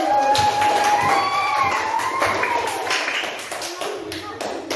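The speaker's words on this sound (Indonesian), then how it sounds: "tepuk tangan untuk kelompok 1" Classroom of elementary students applauding a student group, rapid overlapping hand claps close by over a teacher's voice, with a sung or drawn-out tone weaving through the clapping.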